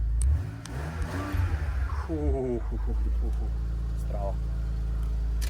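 A BMW E46 drift project car, stripped for weight, cranks and fires up, its engine revving and settling into a steady idle nearby while people talk over the start.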